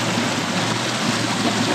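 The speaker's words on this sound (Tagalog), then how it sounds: "Yan ang ilog." A mountain river rushes steadily, a dense broadband wash of flowing water, loud and close with no talk.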